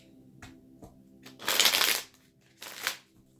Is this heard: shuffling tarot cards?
yes